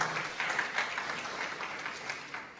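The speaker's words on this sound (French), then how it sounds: "On peut applaudir." A church congregation at a Sunday service claps together in a celebration of a 60-year marriage, a lively burst of applause that starts strongest and gradually thins out.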